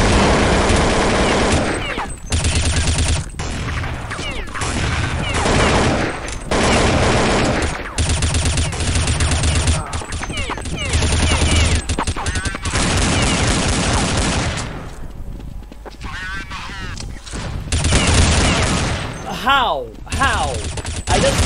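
Sustained rapid gunfire from Counter-Strike 1.6, loud, dense bursts of shots running almost the whole time with brief gaps, and a voice talking over parts of it.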